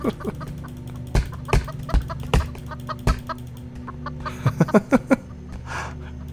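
Chicken clucking from the chicken axe in Roblox Lumber Tycoon 2, sharp repeated clucks in uneven bursts that grow quicker toward the end over a steady low background hum.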